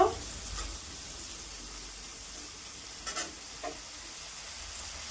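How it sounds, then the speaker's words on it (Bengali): Grapes fry in a pan with a steady soft sizzle and hiss, with a few light scrapes and taps as they are stirred, close and alone with no talk. "আঙ্গুরটাকে ভেজে নিই।"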